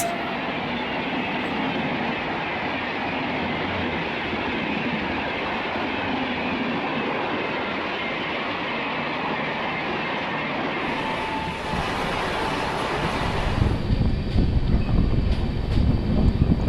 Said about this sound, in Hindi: And following Mumbai Rajdhani is Agast Kranti Rajdhani Express.